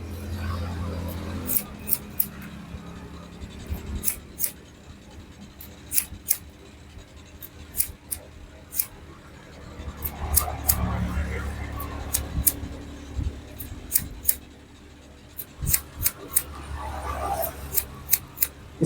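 Scissors snip hair during a skin fade haircut with trimmer and comb work, making rapid bursts of crisp, close metallic clicks in quick clusters. Someone talks quietly underneath.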